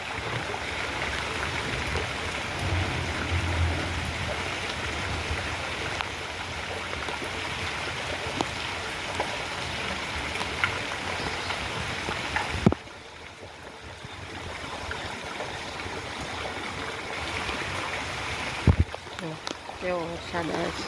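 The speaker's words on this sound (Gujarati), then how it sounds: "કેવો વરસાદ આવે છે" Heavy rain pours steadily into a flooded courtyard, a continuous dense wash of water noise that runs loud throughout, briefly dipping near the end, with people talking over it.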